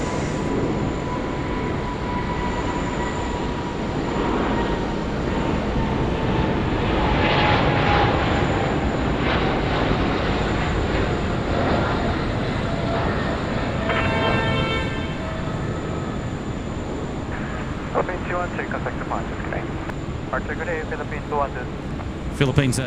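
A Fiji A350 airliner at Sydney Airport with rain moving in over the field, its engines giving a loud, steady, broad jet roar that swells and lingers close by while people talk over it.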